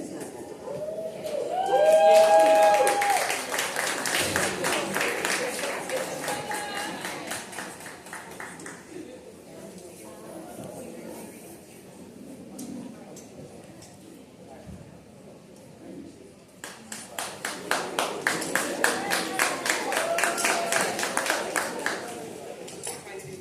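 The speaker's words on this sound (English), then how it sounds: "I'll give them a round of applause" Applause at an award ceremony for the Rise Her Summit 2025: two stretches of steady clapping from a room audience, the second building louder, separated by a quieter gap with some voices.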